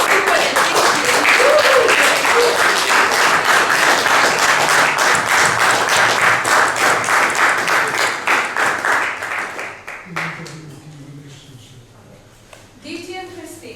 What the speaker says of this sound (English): now with a loud round of applause